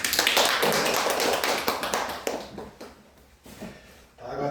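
A church congregation gives the pastor a round of applause: dense, loud clapping from many hands fills the first couple of seconds, then thins and fades into scattered, quieter claps.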